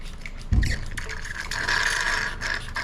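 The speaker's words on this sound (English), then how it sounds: "I'm going to vacuum all that old brake fluid out of the master cylinder reservoir" A Mighty Vac hand vacuum tool pumps old brake fluid from a motorcycle front brake master cylinder reservoir, giving a sharp knock, then rasping mechanical pumping and sucking strokes up close with a hissing draw.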